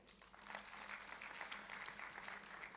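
Faint, scattered clapping from a summit audience for a finance ministry procurement commissioner, swelling slightly and holding at a low, even level, with no voices over it.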